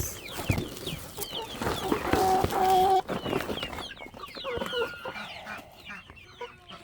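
Backyard chickens clucking and calling at feeding time, several birds close and busy with overlapping clucks and squawks, louder in the first half and then thinning out.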